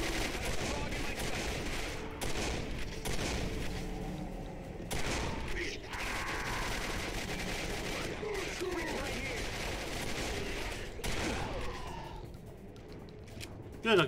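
Dense, sustained gunfire in the PC shooter Quake 4, loud rapid bursts of weapon fire that run almost without a break, with a brief pause and a final sharp blast at the end.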